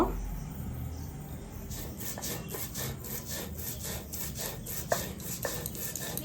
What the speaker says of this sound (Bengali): আমি এখানে কিছুটা পোস্ত নিয়েছি, পোস্তটাকে বেটে নেব।